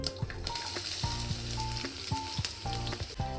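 Onion and green chillies frying in hot oil with mustard seeds in a pan for green gram curry, a steady close sizzle broken by regular stirring clicks of a spoon against the pan, with no talking.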